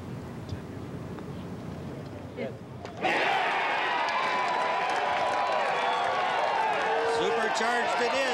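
The gallery at the 2005 Ford Championship at Doral goes from a hushed murmur to a sudden loud eruption of cheering and applause after Tiger Woods holes a putt, and the roar holds steady with a commentator's voice faintly underneath.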